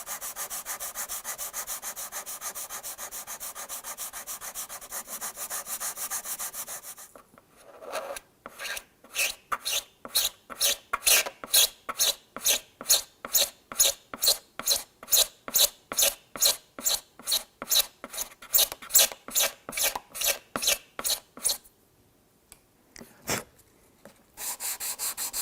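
A guitar's hardened glue finish being hand-sanded: after a few seconds of continuous rubbing, quick rhythmic back-and-forth strokes follow one another steadily, close and crisp, with a brief pause before scraping resumes.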